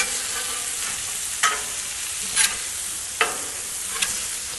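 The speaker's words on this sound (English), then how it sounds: "my chops have been on here for a couple of minutes. I'm going to go ahead and flip them over." Pork chops sizzle on a Blackstone griddle, a steady soft hiss broken by four sharp scraping bursts as they are turned with a spatula, and no one speaks.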